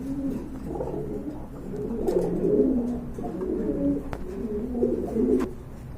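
Several Rajgolla fancy Giribaz and racer pigeons coo in low, rolling phrases, overlapping and repeating steadily at close range, with no talking.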